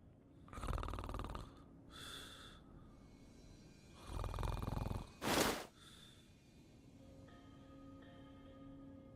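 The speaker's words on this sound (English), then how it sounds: "The snoring stopped." A video game character snores in loud, drawn-out bursts, with several deep breaths spaced across the stretch and a sharper snort near the middle, then the sound settles into quieter steady noise.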